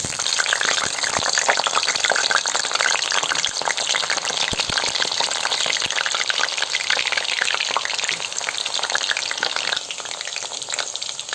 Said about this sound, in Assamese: এতিয়া আলুটো আমি ভাজি আছোঁ